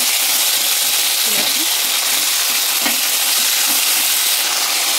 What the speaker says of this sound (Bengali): আলুটাকে ভালো করে নাড়াচাড়া করে নিই